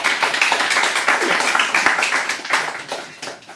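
Lively clapping from a small audience after a singer's first set, close and continuous with uneven individual claps before it starts to thin out toward the end.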